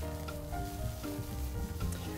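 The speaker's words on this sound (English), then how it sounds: "some sauteing, right?" Vegetables sautéing in olive oil in a pan give a steady close sizzle and crackle that holds even and unbroken, with no voices over it.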